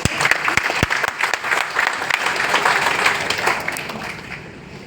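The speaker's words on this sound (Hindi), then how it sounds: "ताली बजाओ जोर से" An audience at a lifestyle program in Jorhat breaks into loud, dense applause with sharp individual claps at first, swelling into a sustained roar of clapping before tapering off.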